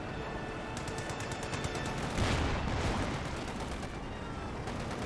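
Distant battlefield gunfire from the WWII strategy game Company of Heroes 2, a steady quiet crackle of small-arms and machine-gun fire with a slightly heavier burst in the middle, no talk.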